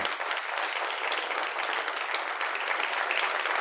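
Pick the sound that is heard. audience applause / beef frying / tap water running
audience applause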